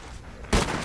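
A single loud gunshot fired in the video game Red Dead Redemption, cracking suddenly out of a low ambient background about halfway through and trailing off in a short rumbling decay.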